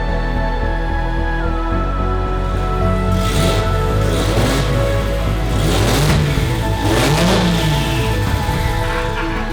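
A Nissan RB26 engine swapped into a Datsun 240Z Fairlady runs loud and close on a cold start, holding a rough steady idle with several rising and falling revs.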